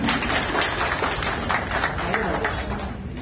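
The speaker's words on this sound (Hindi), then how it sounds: "जोरदार ताली का स्वागत करें सभी" Loud applause from the crowd at a BJP political rally in Uttarakhand, sustained dense clapping with a voice over the crowd's noise.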